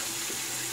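Tap water runs steadily into a sink while a razor is rinsed during a wet shave, a close, continuous splashing hiss with no talk.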